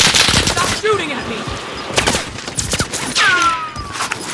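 Loud, close automatic gunfire in Call of Duty Warzone Rebirth Resurgence, with bursts of rapid shots, whistling tonal effects and game sounds layered over each other, and a voice talking partway through.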